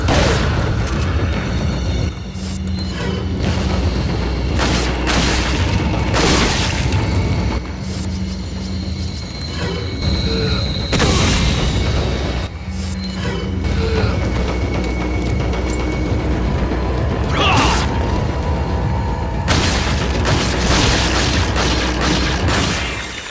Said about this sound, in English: I'm just gonna change to a shotgun.